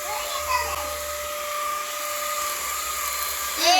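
A cordless vacuum cleaner drones steadily and loudly, its motor whine holding constant as it sucks up debris, with a voice briefly audible over it near the end.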